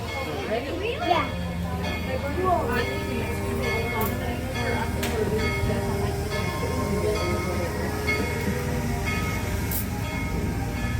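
A Tweetsie Railroad heritage train rolls along with a steady rumble, clanking and squealing wheels, and the rumble continues throughout the ride.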